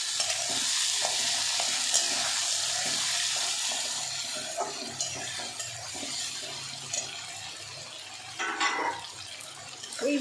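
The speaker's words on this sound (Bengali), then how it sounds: "এখানে আমার মাছ আর পেঁয়াজটা অনেকটাই ভাজা হয়ে গেছে।" Fish, onion, garlic and green and dried chillies frying in a pan with mustard paste: a continuous soft sizzle with occasional stirring scrapes and light watery crackles, fairly quiet and close, no talking.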